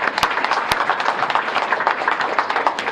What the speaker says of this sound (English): so I want to give Brian a round of applause